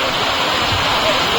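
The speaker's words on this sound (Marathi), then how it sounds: "पाऊस बघा, तुफान आला एकदम." A heavy monsoon rainstorm pours down around a villa in Karjat, a dense, steady hiss and roar of falling water with no break across its short span.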